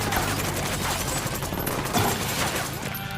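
Heavy gunfire from a Ghost Recon Wildlands squad attack on an antenna target, a dense, loud fusillade of overlapping shots sustained without pause throughout.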